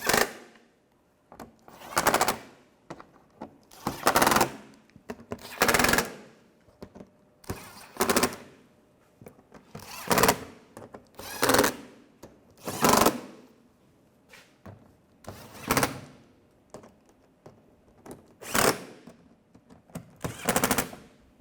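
A power tool drives fasteners on a 2004-2010 BMW X3 in about a dozen short, loud, evenly spaced rattling bursts, with brief quiet gaps between them.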